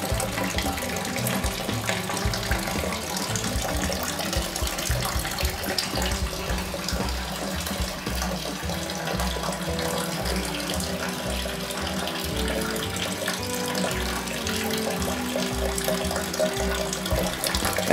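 Brewing water rinsing steadily through a bed of malt grains during mashing for a Redhook ESB, a continuous trickling, splashing flow heard close up and alone with no talk.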